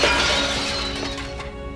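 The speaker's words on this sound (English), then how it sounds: "Klingons love to break those glass tables." A glass table smashed by a Klingon in a Star Trek scene: a loud, bright shatter at the start followed by a spreading wash of breaking glass and tinkling debris that slowly fades.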